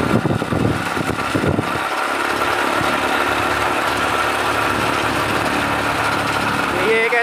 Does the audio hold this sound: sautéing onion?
no